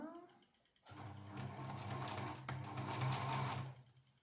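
A sewing machine stitches a fabric barrier face mask, a rapid mechanical whirring burst of about three seconds after a short pause, with someone speaking softly at the start.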